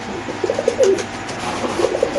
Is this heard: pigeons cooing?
yes